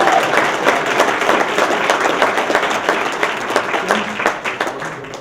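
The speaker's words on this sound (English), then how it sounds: "Why don't you all just give yourself a great round of applause?" An audience at a presentation gives a full, steady round of applause, loud and close, with many overlapping claps that last throughout.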